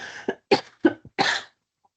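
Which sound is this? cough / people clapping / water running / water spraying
cough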